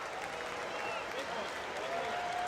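Steady crowd applause at a baseball game fills the air as a batter comes to the plate with the bases loaded, a dense continuous clapping wash with a voice speaking over it.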